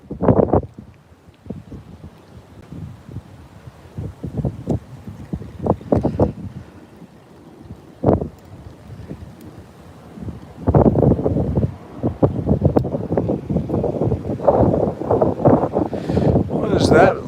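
Wind gusts buffet a fishing boat in uneven bursts, with microphone rumble and rustling, quieter spells between gusts and stronger sustained blowing toward the end.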